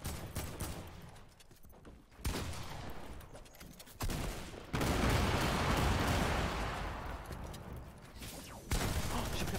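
Gunfire crackles through a video game battle royale arena match, with sniper shots among bursts of rapid fusillade and booming impacts, loud and dense, broken by brief quieter gaps.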